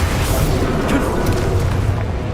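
A heavy, sustained roaring blast from the Incendio fire spell in the Hogwarts Legacy video game, loud and continuous, filling the short moment without any talking.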